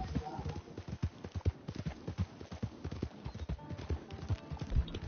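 Horse hooves clip-clop steadily at a walking pace in Red Dead Redemption 2, with a brief whinny mixed in, moderately close and fairly quiet.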